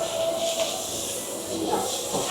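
Thin slices of fatty Angus beef sizzle on a charcoal grill at a Shenzhen yakiniku restaurant, giving a steady close hiss with brief faint voices.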